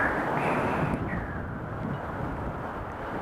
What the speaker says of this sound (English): 20 mile an hour wind, it's cold.